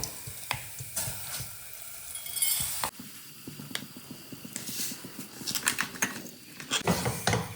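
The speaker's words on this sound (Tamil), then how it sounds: "இதை நல்லா இந்த எண்ணெயில் மிக்ஸ் பண்ணிக்கணும்" Rice upma mix is stirred into hot coconut oil in a pan, giving a soft sizzle broken by irregular spoon scrapes and clinks against the pan, fairly quiet and close, with no talking.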